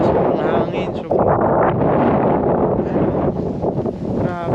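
Strong wind at Lumampao Viewdeck in Batangas roars and buffets the microphone in a steady, loud rush, with a faint voice briefly audible underneath.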